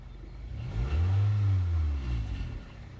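A 2008 Toyota Corolla engine is revved from idle to higher RPM, a low droning swell that rises, holds for about a second and falls back toward idle, close and fairly loud.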